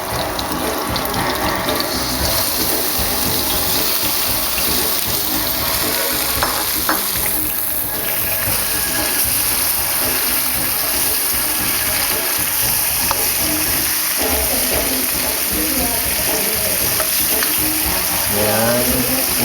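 Catfish sizzling and frying loudly in a pan with sauteed onions, a steady dense crackle with occasional stirring and scraping throughout.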